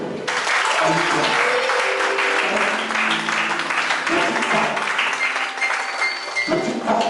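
Church congregation applauding and shouting praise to God, sustained loud clapping with cheering voices throughout, a crowded near sound.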